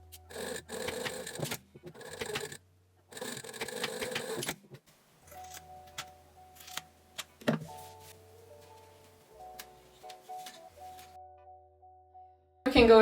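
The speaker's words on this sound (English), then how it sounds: "Okay, so I'm just going to stitch around here." A sewing machine stitching a vest, running in three loud rhythmic bursts with pauses between them, then giving way to quieter tonal hums and mechanical clicks.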